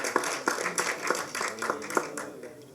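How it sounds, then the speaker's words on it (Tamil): Sparse applause from an audience at a Tamil stage event, a handful of claps pattering unevenly at moderate distance and fading after a few seconds. "அதுக்காக ஒரு தடவை கைதட்டு"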